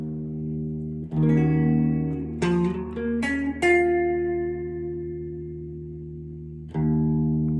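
Electric guitar plays a pentatonic-scale lick: a held bend swelling into a few quick picked notes, then a long ringing sustain before a final struck note, clean and close with no talking.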